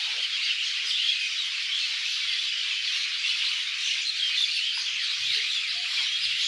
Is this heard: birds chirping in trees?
yes